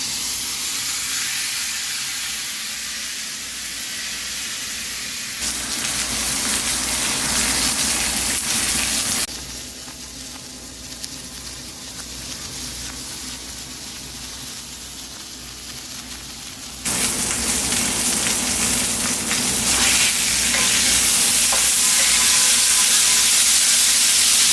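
Porterhouse steak searing in a hot pan of oil with Szechuan peppercorns, a loud steady sizzle and hiss that shifts in intensity in sections, with no talking.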